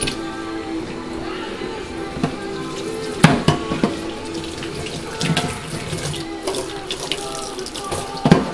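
Running water rinses a Maine Coon cat during a bath in a sink, a continuous close splashing flow with intermittent louder splashes and knocks as the water is moved over the fur.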